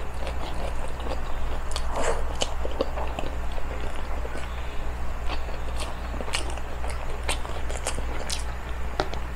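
Close eating sounds of pork steak bistek with lots of onions, soft repeated chewing and smacking over a constant low background hum, no talk.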